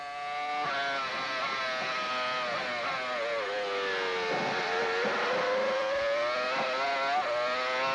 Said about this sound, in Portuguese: E você vai de carona aí na Jordan Motor Honda e Fisichella.